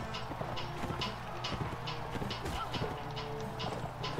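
Horse hooves clip-clop steadily in the video game Mount & Blade: Warband, a quiet, regular galloping rhythm of evenly spaced hoof strikes over low background noise.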